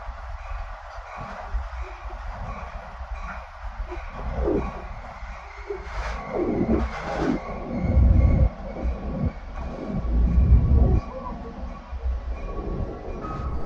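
A Metra commuter train on the Union Pacific North line rolls along the tracks near Evanston, Illinois, a steady rumble of wheels and rail clatter that swells and fades, loud and close throughout.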